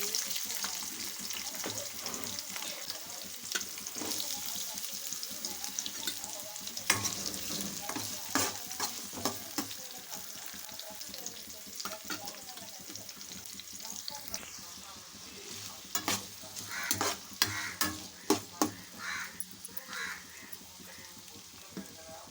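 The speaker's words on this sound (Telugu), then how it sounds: "కాస్త ఫ్రై అయిన తర్వాత ఆనియన్స్ అయితే వేస్తున్నాను." Chopped onions sizzle in hot oil with cumin seeds in a pan for a tamarind okra stew, with a steady frying hiss under repeated scraping and stirring strokes, the clatter growing busier toward the end.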